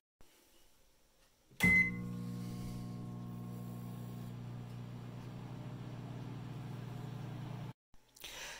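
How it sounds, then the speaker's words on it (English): A microwave oven hums steadily while melting butter in a mug, starting with a clunk as it kicks on, then a constant electric drone for about six seconds before stopping abruptly, followed by a brief click. "put it into the microwave for 10-second increments until it is completely melted"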